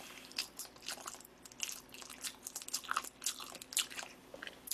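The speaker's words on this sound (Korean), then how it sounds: "이렇게 감동란인데 한입 비워 먹어볼게요" Bites and chewing of a Korean soft-boiled egg (gamdongran), close and quiet, with soft irregular crunches and wet smacks repeating over a few seconds, no talk.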